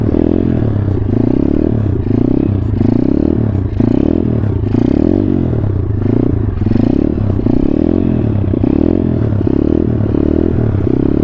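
Pit bike engine revving in first gear, with a loud, close, pulsing rattly drone that rises and falls in repeated surges and no talk over it.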